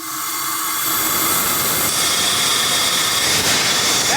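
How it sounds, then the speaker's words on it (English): Compressed air rushes through the throttle valve of a restored steam hammer, a loud, steady, broadband hiss that swells slightly and holds unbroken for several seconds. "we're going to have a listen to how the throttle valve delivers air"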